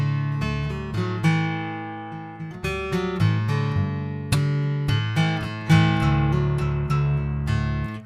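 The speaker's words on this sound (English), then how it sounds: "This is the sound of the Mojotone magnetic acoustic guitar pickup." Acoustic guitar heard through a Mojotone magnetic soundhole pickup, strummed and picked chords ringing out clearly, with bright, sustained strings and distinct attacks recurring every second or so, played alone and close.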